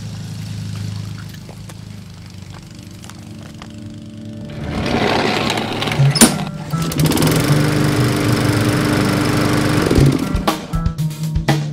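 A lawn mower's small engine putters quietly, then revs up loudly midway and keeps running close by with uneven surges, with no talking.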